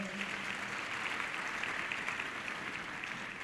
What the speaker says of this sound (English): A round of applause once more for her.